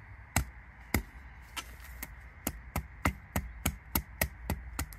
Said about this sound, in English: Very bouncy when you're hitting it with a hammer.